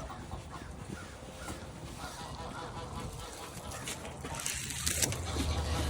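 Geese honking on a farm in the morning, scattered nasal honks against a busy background, moderately near, with a louder burst of calls toward the end.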